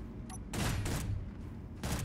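Space Engineers gunfire heard as a few heavy, broad bursts of shots, fairly distant and muffled, separated by short pauses with low background rumble and no talking.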